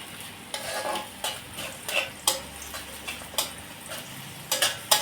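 Onion frying in a pan for shahi korma, a soft steady sizzle broken by repeated scraping and stirring strokes of a utensil against the pan at uneven intervals, close and clear.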